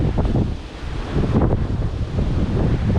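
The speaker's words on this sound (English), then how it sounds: "it's windy and we've got the weir pool rushing down to our right" Blustery wind buffets the microphone over a constant roar of a weir pool rushing nearby on the River Thames, with no voices.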